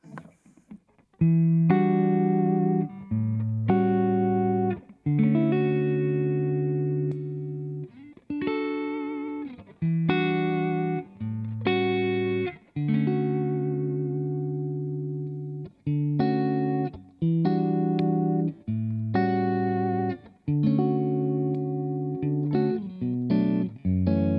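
A PRS 20th Anniversary electric guitar played through its neck humbucker in split-coil mode, heard as a run of chords and picked notes with a smooth, effected tone, close and steady, with short pauses between phrases and no talk.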